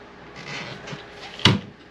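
A quiet rustle, then one sharp wooden knock as a drawer slides shut, close by, inside a 2023 Coachmen Leprechaun 260DS motor home on a Ford 450 chassis.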